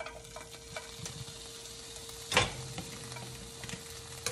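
Chopped onion sizzling in a shallow layer of oil for egg rice, a constant close frying hiss with one sharp clatter partway through and no voices.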